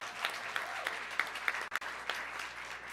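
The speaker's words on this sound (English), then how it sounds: "can we have a huge round of applause for all the members who have put their names forward today?" A council meeting audience applauds candidates for office with continuous, fairly quiet clapping from a roomful of people, steady throughout.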